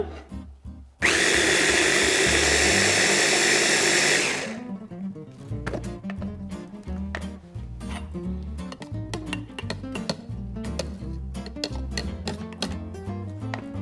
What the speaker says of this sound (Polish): Jeszcze raz blendujemy.